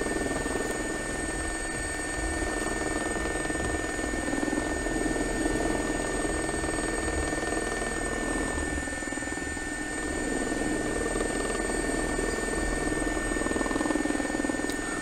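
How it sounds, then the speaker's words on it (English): A JRX SA342J Gazelle helicopter in the X-Plane 11 flight simulator produces a constant whining turbine and rotor drone. The sound is loud, steady and unbroken, with no talk. "this is our only helicopter"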